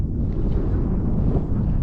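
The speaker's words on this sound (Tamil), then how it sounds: "கண்டிப்பாக காற்று சத்தம் உங்களுக்கு கேட்கும், அந்தளவுக்கு காற்றடிக்குது" Strong wind roars steadily across an open hilltop near a hidden fort at Bolumalai, buffeting the microphone loudly throughout with no voices.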